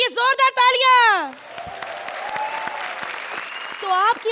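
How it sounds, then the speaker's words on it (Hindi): Studio audience applause on a comedy show, a dense burst of clapping that follows a sung, pitch-gliding voice and continues for a few seconds before the singing returns. "सुकेश की हिम्मत के लिए जोरदार तालियां।"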